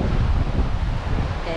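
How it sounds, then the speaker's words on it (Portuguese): Strong wind blowing across the microphone at Praia de Tourinhos beach in São Miguel do Gostoso, Brazil, a loud continuous rumbling buffet with surf beneath it and a voice briefly at the end. "Venta bastante aqui."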